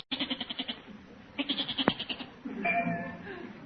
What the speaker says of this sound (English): Holy smokes, a goat.